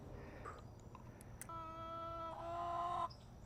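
A chicken gives a drawn-out, tonal call close by, followed by softer clucking against a quiet outdoor background.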